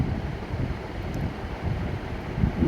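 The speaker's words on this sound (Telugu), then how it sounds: "మాకు సౌత్ సైడ్ నుంచి గాలి వస్తూ ఉంటుంది అనమాట" Low, steady wind from the south rumbles and buffets the microphone outdoors, a continuous blustery roar with no voices.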